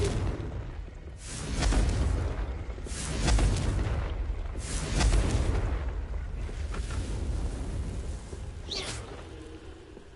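Confringo fire spell detonations in Hogwarts Legacy, three deep rumbling booms about one and a half seconds apart, each swelling and fading slowly, followed by quieter rumble and a brief high swish near the end.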